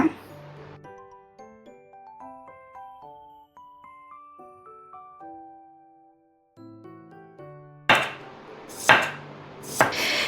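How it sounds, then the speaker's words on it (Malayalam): A knife slices a cucumber into thin rounds on a board, a few quick crisp chops arriving near the end after a stretch of melodic background music. "ഇത് നല്ല കനം കുറച്ച് റൗണ്ടാക്കി അരിയണം"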